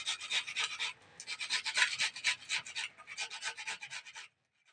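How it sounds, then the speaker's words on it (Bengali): Bitter gourds are rubbed against a hand grater in quick, rhythmic rasping strokes, close and crisp, with a short pause after the first second before the scraping resumes and then stops. "বন্ধুরা দেখতে পাচ্ছ, এই যে এইভাবে আমি সমস্ত উচ্ছেগুলো ঘষে নেব।"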